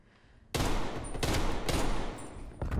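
Loud bursts of gunfire from a Cold War shooter video game erupt after a brief quiet start, rapid automatic fire recurring in several dense volleys close up with no talking.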